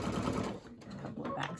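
A sewing machine runs a couple of back stitches on quilt binding, a close steady mechanical whir with a short pause and change of direction partway through, fairly quiet.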